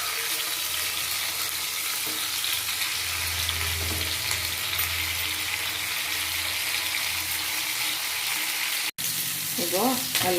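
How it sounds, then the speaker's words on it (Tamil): Chicken pieces, boiled beforehand, frying in hot oil for an Arabian chicken mandi make a steady, dense sizzle throughout, with a brief cut near the end and faint clinks afterward. "இதில் நம்ம வேக வச்சு வச்சுருக்க சிக்கனை போட்டு ஃப்ரை பண்ணிக்கலாம்."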